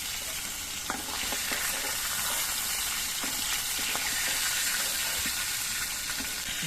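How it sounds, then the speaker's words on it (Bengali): Close, steady sizzling of boal fish frying in a pan, with spatter crackles and small pops dotted through a constant hiss. "বাকি মাছগুলো আমি একইভাবে ভেজে নিচ্ছি"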